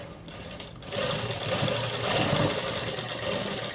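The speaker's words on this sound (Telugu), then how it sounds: "ఎక్కించుకున్న తర్వాత ఒక కుట్టు అనేది వేసేసుకున్నాము" Sewing machine stitching elastic onto fabric, a steady close mechanical whir with rapid needle rattle that starts after a brief pause and runs continuously to the end.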